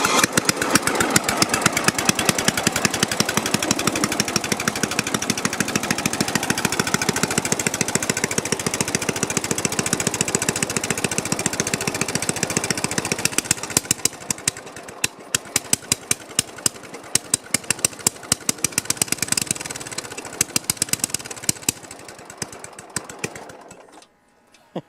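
Sears LT1036 lawn tractor engine after restoration cranks and runs with a loud, rapid, ticking mechanical chatter, steady and close for most of the stretch, then cutting back to looser, sparser firing near the end.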